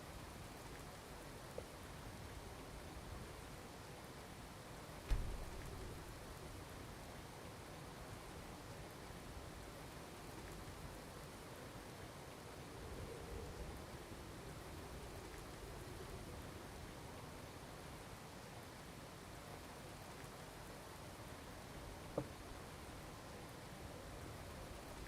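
Rain falls outside an inn in the Skyrim video game as a soft, steady hiss, faint and continuous, with a few isolated small knocks.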